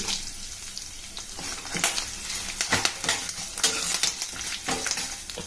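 Curry leaves and dried red chillies crackle and spit in hot oil with mustard and cumin seeds while being stirred, a close sizzle broken by sharp bursts of popping.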